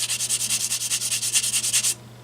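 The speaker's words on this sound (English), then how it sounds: "sand down there on the rougher side, and then a smoother side" Rapid, even strokes of sandpaper rub across a rough plastic part from a model kit of an Italeri German motorcycle and sidecar, close and crisp, about a dozen back-and-forth passes before stopping.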